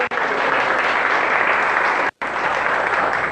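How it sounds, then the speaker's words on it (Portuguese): A crowd claps for a birthday at a church youth gathering, dense continuous applause that is loud and steady, broken by two brief cutouts, with no talking over it. "uma salva de palmas para ela."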